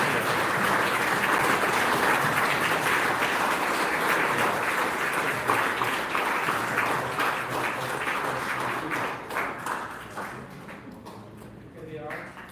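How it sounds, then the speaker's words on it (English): Round of applause at a Chabad gathering for arriving guests, a dense crowd clapping continuously for about ten seconds before thinning out, with voices mixed in. "A round of applause for them"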